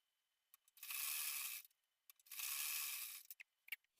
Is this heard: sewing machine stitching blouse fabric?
yes